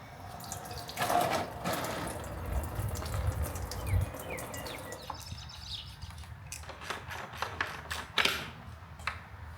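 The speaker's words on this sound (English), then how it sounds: "a coolant line that if I yank, it will allow the coolant to drain" Coolant trickling and splashing out of a pulled hose on a Country Clipper mower, a steady liquid pour with faint drips, while a few sharp clicks and taps sound nearby.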